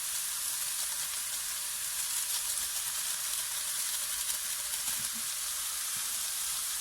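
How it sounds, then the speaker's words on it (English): Vegetables for a samosa filling, mostly potatoes and seasoned with allspice, sizzle steadily in a pan under a continuous, even frying hiss. A few soft scrapes of stirring come through near the end. "Give it a stir. Mix everything well together."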